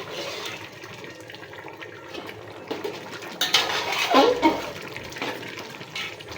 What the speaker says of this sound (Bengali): একটু নেড়ে দিলাম তলায় না হলে এঁচে যাবে